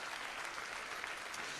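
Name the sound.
audience applause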